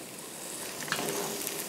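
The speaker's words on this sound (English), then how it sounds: "I'm going to throw those mushrooms in, and we're going to start sauteing that." Torn oyster mushrooms sizzle in a hot pan, a steady close crackle of frying with a few small pops and stirring sounds.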